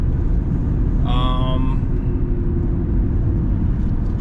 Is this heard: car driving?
yes